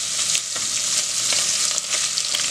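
Skinless calabresa sausage and bacon fry in a pan with a dense, bright sizzle and occasional stirring scrapes, steady and close throughout.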